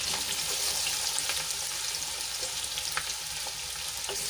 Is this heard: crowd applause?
no